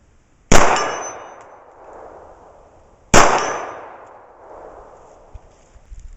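Two loud, ringing clangs a few seconds apart as .45 ACP rounds from a Remington R1 1911 pistol strike a steel target at 40 yards, each impact trailing off in a long metallic ring.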